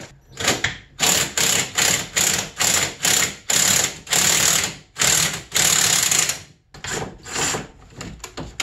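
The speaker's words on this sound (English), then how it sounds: "you should be able to start backing the tension bolt off" A ratchet backs off the track tension bolt on a 2002 Arctic Cat ZR 600 EFI snowmobile, giving a close, loud string of rapid clicking bursts in a regular rhythm with short pauses between strokes.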